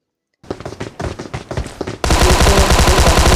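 Gunfire in Battlegrounds Mobile India, a burst of rapid shots followed by a sudden loud, dense volley of continuous automatic fire, close and harsh, with no talking.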